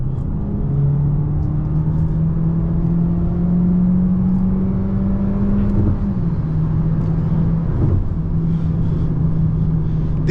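A 2025 Hyundai Sonata Hybrid accelerating at full throttle from inside the cabin, a steady loud engine and road drone with a rising hum that dips briefly mid-run before resuming, no talking.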